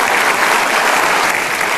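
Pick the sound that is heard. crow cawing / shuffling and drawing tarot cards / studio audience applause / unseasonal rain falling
studio audience applause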